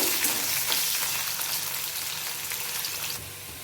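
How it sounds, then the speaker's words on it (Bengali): Potatoes frying in hot oil in a wok with a little salt, cooking for a green jackfruit curry; a steady, close, dense sizzle and crackle runs throughout, easing slightly near the end. "আলুগুলিকে লাল লাল করে ভেজে নেব"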